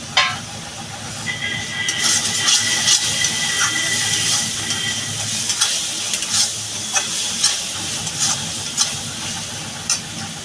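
Masala sizzles and hisses in a pan with capsicum and peas while a spoon stirs and scrapes in irregular strokes, the frying loud and close with faint talk underneath.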